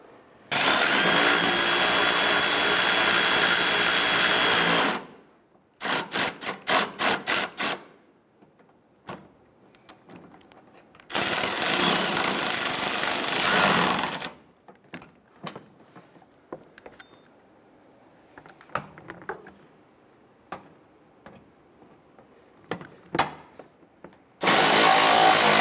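Power tool snugging down fasteners on a 2005-2010 Chrysler 300 bumper during a radiator replacement: two long loud bursts of whirring, a rapid stuttering run of impacts between them, then clicks and handling noises before another burst.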